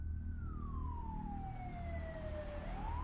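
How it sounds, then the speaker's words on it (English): An ambulance siren wails in a long sweeping tone that slides slowly downward and then rises again, moderately distant over a low rumbling traffic background. "the sirens reached a fever pitch as the ambulance arrived on the scene"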